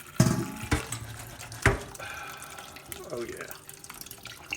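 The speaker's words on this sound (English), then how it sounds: "So we're going to add some more cold water," Cold water runs from a kitchen tap into a pot of potatoes cooked in a rice cooker, a steady splashing flow under a brief spoken remark, with a couple of clunks from the pot.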